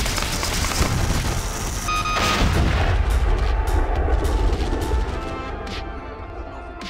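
Smart bombs spammed in the mobile game Tacticool, producing loud continuous rolling booms and overlapping blasts with dense gunfire-like crackle, sustained and heavy for the whole stretch with no talking.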